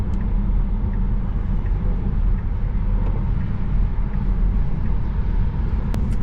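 An electric car accelerates hard and then brakes, heard from inside as a steady, loud low rumble of road and motor noise with little variation.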